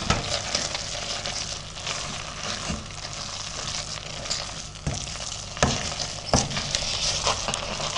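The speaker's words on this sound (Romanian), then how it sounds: "Și amestecăm continuu." Homemade cheese mixture for cașcaval is stirred continuously in a pot, giving a steady sizzling bubble with repeated scraping strokes and occasional sharper knocks of the utensil.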